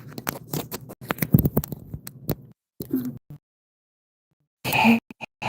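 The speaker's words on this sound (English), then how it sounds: "sometimes I shuffle really loudly and it makes like this really sharp sound" A deck of playing cards shuffled loudly, with rapid sharp riffling clicks in bursts, a pause of near silence, then another brief crackling shuffle close by.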